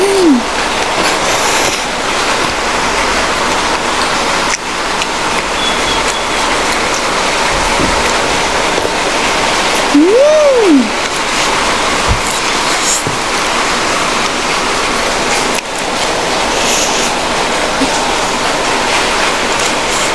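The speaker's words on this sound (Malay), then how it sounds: "Hujan lebat tau." Heavy rain falls as a steady, loud, dense wash throughout, with occasional faint background tones and no talking.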